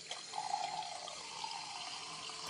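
Water pouring steadily as fish are unloaded off a lorry, a continuous splashing, faucet-like stream heard alone at moderate level for a few seconds.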